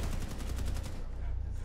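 Rapid bursts of video game gunfire, a dense rattling volley that dominates the first second and then fades into a steady low rumble of game background noise.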